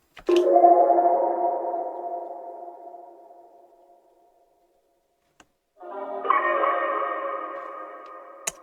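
Two glassy, echoing synth swells fade in and out with a silent gap between them, soft airy effects standing alone without voices.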